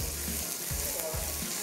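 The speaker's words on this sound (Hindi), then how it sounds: "बस साग को अब आपने भूनना अच्छे से" Sarson ka saag fries over a flame with a steady sizzle, broken by regular low thumps of stirring about every half second, close and moderately loud with no talking.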